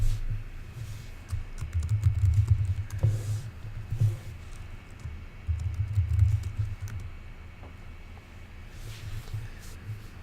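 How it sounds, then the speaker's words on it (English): Keystrokes on a computer keyboard while a terminal install command is entered, a steady patter of close, light clicks in bursts with brief pauses. "we're going to type in sudo gem install CocoaPods"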